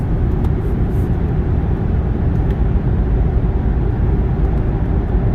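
A 2.0-litre turbocharged Acura TLX SH-AWD engine drones steadily under acceleration while the paddle shifters are worked, a loud, even roar from inside the cabin with no clear break for a gear change.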